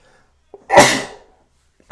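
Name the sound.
sneeze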